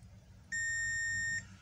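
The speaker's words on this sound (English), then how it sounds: "one capacitor is beeping" A single steady electronic beep from a multimeter's continuity test on a capacitor during short-circuit finding on a circuit board, lasting under a second, clear and close over faint background hum.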